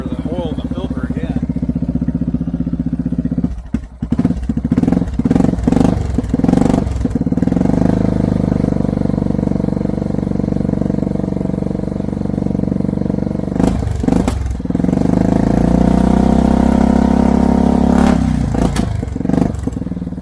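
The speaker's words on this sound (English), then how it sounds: "Alright, so four-wheeler's running." A Yamaha Grizzly 600 ATV engine runs close by with a loud, steady idle chug, rising in brief revs, with a few clattering knocks mixed in.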